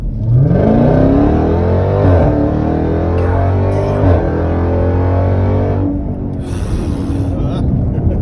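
A 2020 Jeep Trackhawk's supercharged engine revs hard and accelerates in track mode, a loud, rising engine roar with sweeping pitch climbs and gear-change dips, a brief lull near the end before building again, with voices speaking over it.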